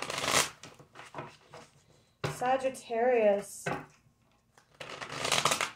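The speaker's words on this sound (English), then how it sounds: "We'll do 2 more shuffles" Tarot cards are shuffled in two short crisp riffling bursts at the start and end, separated by a speaking voice.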